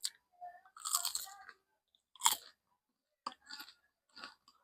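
Crunchy bites and chewing of a crispy fried turon, a banana spring roll, in several short bursts close to the mic, with brief pauses between mouthfuls.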